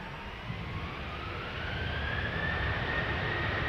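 Ryanair Boeing 737-800 taking off from Schiphol's Polderbaan runway, bound for Dublin: a steady, loud jet roar with a rising engine whine that builds gradually, with no voices.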